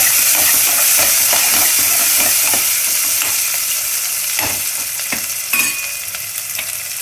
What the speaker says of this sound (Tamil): வெங்காயம் லைட் ப்ரௌன் கலர் ஆகணும்.